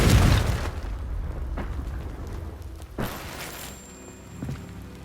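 Confringo fire spell blasts in Hogwarts Legacy on PS5: a loud boom at the start, then sharper impact bursts about three seconds in and again near the end, with quieter rumbling in between.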